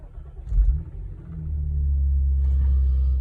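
A cold-started Audi S4 B8 engine idles at about 1200 to 1400 RPM, a low, steady rumble that swells briefly early on and then settles into an even, close drone.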